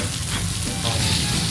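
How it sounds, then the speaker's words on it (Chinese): Kobe wagyu beef sizzles in a hot pan, a continuous crackling hiss that stays even and close throughout the short stretch. "好的牛肉就是不用煮太，不用煎太久"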